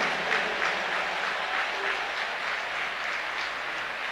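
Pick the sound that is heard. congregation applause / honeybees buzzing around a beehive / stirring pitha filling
congregation applause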